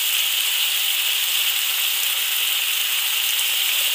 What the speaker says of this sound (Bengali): এরপরে রসুন বাটা জিরে বাটা এটা দিয়ে বেশ কিছুক্ষণ কষিয়ে নেবে।